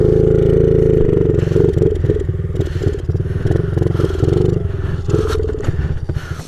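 A Honda CRF50 pit bike running in snow, loud and close, its engine throbbing roughly and bogging down under throttle, sputtering and rising unevenly with scraping clatter.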